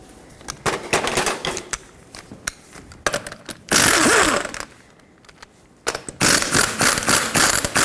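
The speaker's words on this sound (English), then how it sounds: "Now you can use a regular size socket to get all the 5 21mm lug nuts off." Socket ratchet spinning off the 21mm lug nuts on a 1995-2004 Toyota Tacoma front wheel: bursts of rapid clicking and ratcheting, loud and close, with brief pauses between nuts and a metallic clatter.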